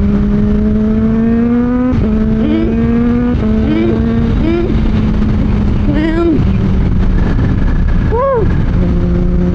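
A 2024 Kawasaki ZH2 motorcycle with 197 hp is ridden on a test ride, its engine loud and close, rising and dropping in pitch through repeated gear shifts under steady wind roar.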